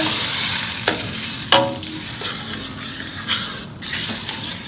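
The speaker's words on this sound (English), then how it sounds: "I'm going to add this in too. Give it a stir." Oil sizzles steadily in a pan while a utensil scrapes and clanks against it several times as the food is stirred.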